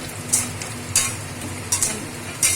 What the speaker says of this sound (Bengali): মধ্যম করা আলুগুলো একটু ভেজে নেবো নুন হলুদ দিয়ে